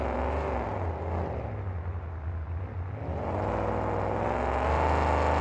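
Monster truck Loud Pedal, driven by Mike Maxwell at an indoor Rosemont arena show, roars with a loud, steady engine rumble that dips briefly in the middle before surging back to full power.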